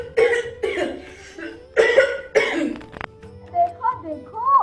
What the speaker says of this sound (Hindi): देखो देखो, अंकल को कितनी जोर से खांसी आ रही है।